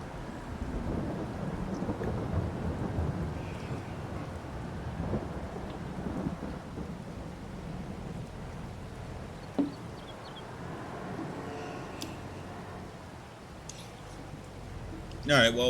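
Rain and rumbling thunder in the video game Farming Simulator on a Carpathian farm map, a low steady rolling rumble with scattered sharper cracks, fairly soft overall with someone talking over parts of it.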